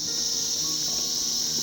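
Crickets trill in a steady, unbroken high drone beside a waterfall in the Kolakham forest near Changey Falls, loud and continuous throughout with no voices.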